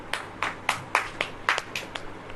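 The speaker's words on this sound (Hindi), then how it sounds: "ताली बजाइए।" Congregation at a church sermon clapping in unison, about ten sharp, evenly spaced claps from many hands, fairly close and loud.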